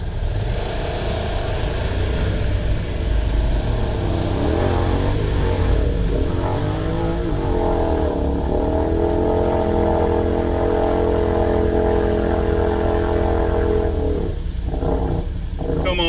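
A Yamaha Wolverine X2 side-by-side strains to tow a Honda Pioneer 1000-5. The loud, close engine drones without a break, its pitch rising and wavering midway through the pull.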